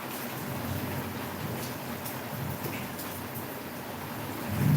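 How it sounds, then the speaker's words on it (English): Slow, misty rain falls over a garden in the horror game Silent Hill, a soft continuous patter with faint distant rumbles and a low thud near the end. "it's raining, so he's not wrong. It's that slow rain. Nice misty garden rain."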